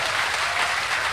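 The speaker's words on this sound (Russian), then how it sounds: "Большое аплодисменты вам." Audience applause at a Science Slam talk on spatial hearing: dense, steady clapping from a full room throughout, loud and continuous with no voices on top.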